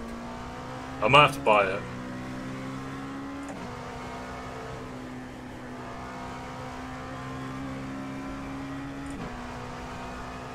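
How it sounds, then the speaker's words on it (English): A Porsche race car engine drones steadily in the iRacing sim game, a sustained mid-level tone with slight pitch shifts, while someone speaks briefly near the start over it. "I still love the sound of that Porsche."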